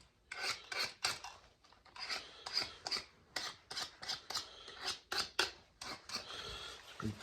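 A tool scrapes along the sides of a guitar fretboard binding in quick, rhythmic back-and-forth strokes, each a short, dry rasp, recorded close and fairly quiet.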